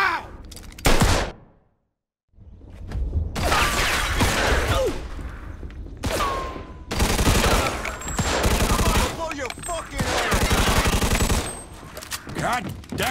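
Heavy gunfire from the Mafia II video game, loud bursts of automatic and rapid shots filling most of the clip, with a brief silent gap early on and voices shouting in between.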